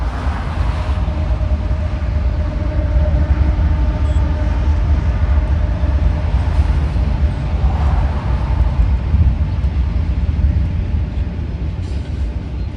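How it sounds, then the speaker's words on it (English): Norfolk Southern Intermodal 266, a freight train, rumbles past close by with a loud, continuous low roar and rolling wheel noise that holds steady throughout with no voices. "I managed to catch Norfolk Southern Intermodal 266 passing outside on its daily journey"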